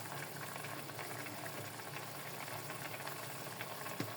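A steady, low bubbling and simmering of coconut milk broth for tilapia in a pot, continuous and close, with a faint clink near the end.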